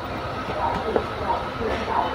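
Steady low rumble of a moving train with faint rhythmic rattling, a few soft voices murmuring in the background.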